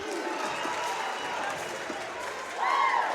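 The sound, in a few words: basketball crowd cheering and clapping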